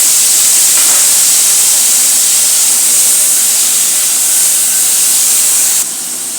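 Finely chopped potato and brinjal sauté in hot oil, giving a loud, steady, close hiss of sizzling that holds evenly before easing slightly at the end.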